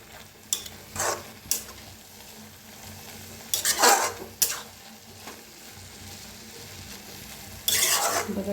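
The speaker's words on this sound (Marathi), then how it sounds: "आता छान मिक्स करूया।" Fenugreek leaf bhaji being stirred in a kadhai with a spatula, giving several short scraping, rustling bursts spread across the clip over a soft background sizzle, with a louder stretch of stirring near the end.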